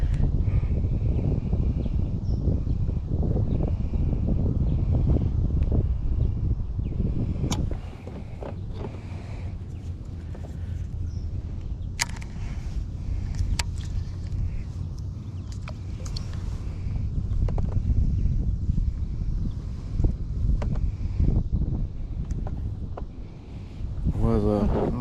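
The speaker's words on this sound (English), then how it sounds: "the wind's blowing a little bit" Wind blowing across a fishing boat on open water, a steady low buffeting rumble against the microphone that holds for the whole stretch, easing slightly after the first few seconds, with faint voices and occasional small knocks mixed in.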